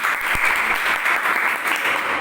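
Steady applause from a room full of people at an RCM business home meeting, dense and continuous clapping that stays close and loud throughout.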